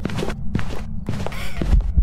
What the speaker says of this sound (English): listen to the footsteps